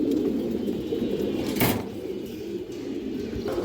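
Female pigeons from a loft of show and racing breeds coo continuously and fairly loudly, with a brief rustle or knock partway through and no talking.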